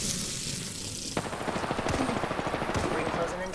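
Automatic gunfire in the Apex Legends video game, a quieter stretch giving way to a fast run of loud rattling shots, with voices talking over parts of it.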